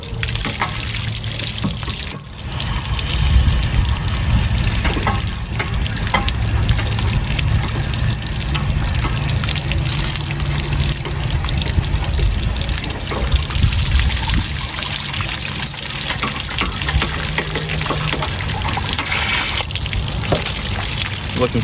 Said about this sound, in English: Just gonna let that tank drain out until all the water's gone.